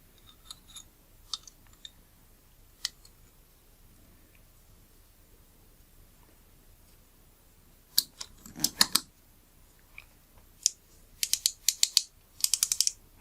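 A regreased Nikon Nikkor 55mm f/1.2 lens is handled and its focus ring turned, giving faint scattered mechanical clicks that build into a denser run of close ticking and scraping toward the end.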